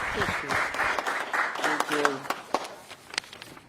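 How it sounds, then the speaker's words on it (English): Loud applause from a crowd right after an oath of office is sworn, dense clapping that thins toward the end, with voices and cheers mixed in. "Ooh, loud clapping. Really loud clapping."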